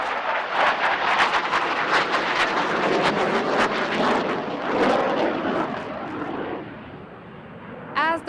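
An HAL Tejas fighter jet roars overhead while flying aerobatic maneuvers at the Aero India airshow, a broad, sustained jet rumble that slowly fades, with a voice heard faintly underneath.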